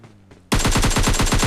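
Automatic gunfire in PUBG Mobile Lite erupts after a quiet half second into a loud, rapid burst of evenly spaced shots that keeps going to the end.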